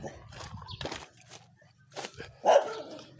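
A dog on a building site gives a few scattered barks and yips at moderate distance, with shuffling footsteps between them.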